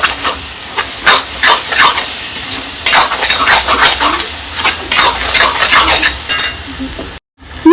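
Masala with coriander powder being stirred in a hot pan for a stuffed chicken dish, with loud, rapid, rhythmic scraping strokes over a constant sizzle and hiss, close up, with a brief dropout near the end and no talk.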